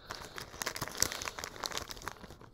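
Scissors cutting open plastic packaging on a Flame Transformers Bumblebee toy, giving quiet crinkling and snipping with irregular rustles and small crackles close by, no voices.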